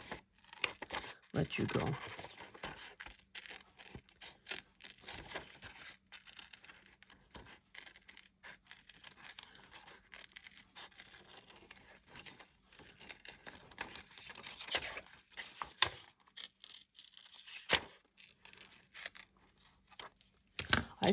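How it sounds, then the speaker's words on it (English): Scissors snip through paper while cutting out a small paper mini dangle craft, giving soft intermittent crisp snips and rustles close by, with a voice speaking briefly now and then. "I'm going to cut out this last one"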